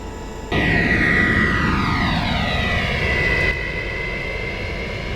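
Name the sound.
Boeing 707 jet engines on takeoff roll, flight simulator game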